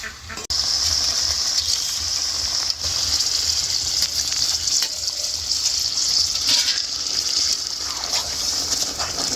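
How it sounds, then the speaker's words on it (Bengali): Water from a rinsed spinach bowl poured into a pan of spinach chicken curry, a steady close gushing hiss running nearly unbroken after a brief opening clatter, with no speech. "যে বাটিতে পালং শাক ছিল সেই বাটি ধুয়ে জলটা দেবো"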